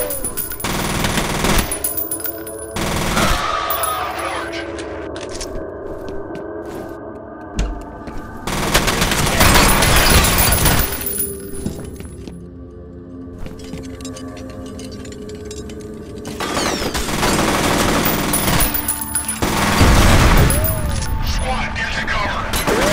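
Bursts of automatic gunfire from the shooter video game F.E.A.R. come in loud clusters separated by quieter stretches of game ambience and mechanical clatter, with a player's voice talking at times.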